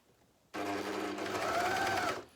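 A JUKI MCS-1500N coverstitch machine hems a tight cuff, starting abruptly and running at a steady, fast, close whir for about two seconds before easing off.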